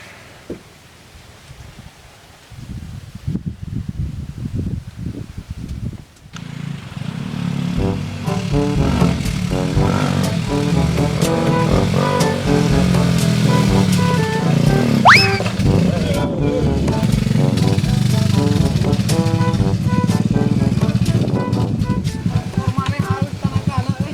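A motorcycle engine starts up and keeps running at a steady, rough idle close by for most of the stretch, with a person talking over it.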